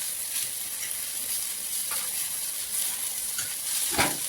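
Food for a Bati Chokha meal, litti dough balls, cooking with a soft steady sizzle, faint and continuous, with a few brief crackles and one sharper pop near the end.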